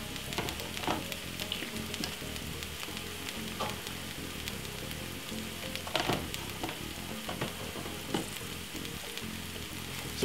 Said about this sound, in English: So we're going to saute this out for about 3 to 4 minutes